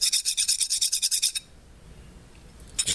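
Wire brush or abrasive rubbed briskly over rusty, greasy metal, about a dozen rapid, even rasping back-and-forth strokes up close and loud, then quiet before a brief final scrape.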